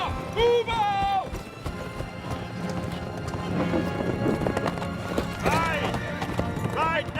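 The Riders of Rohan galloping on horseback, a loud dense rumble of many hooves with neighing horses rising above, while people shout over the charge.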